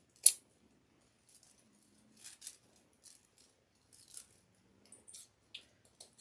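Sparse, faint snips and clicks from cutting down a winter cow centerpiece, with a sharper snip at the start and then scattered, quieter cuts spread across several seconds.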